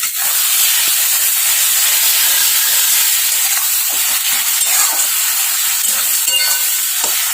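An egg is dropped into a frying pan with potatoes and butter, and a loud, steady sizzle fills the close kitchen without a break.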